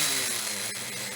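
A nitro engine runs steadily while being tuned, giving a continuous buzzing whine at close range, fairly loud and even throughout the short stretch.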